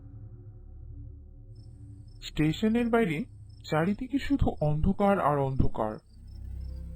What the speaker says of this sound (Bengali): ঝিঝি পোকার ডাক শোনা যাচ্ছে প্রবলভাবে